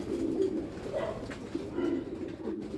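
Pigeons coo in a loft, where hens sit on the landing board: low, throaty rolling coos repeat steadily at close range, with no one speaking over them.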